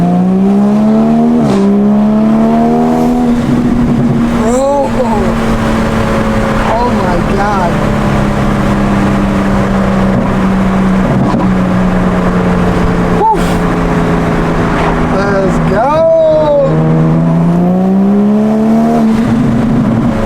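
A loud engine drones close by and rises in pitch several times as it revs and accelerates, with a throaty roar throughout.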